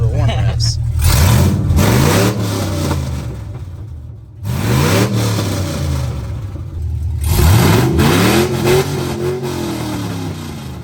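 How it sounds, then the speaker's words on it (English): A work truck engine with an upgraded, header-dumped exhaust revs several times, loud rising and falling roars separated by brief idle dips, with people talking over it. "A couple of warm revs, not hot revs, but warm revs."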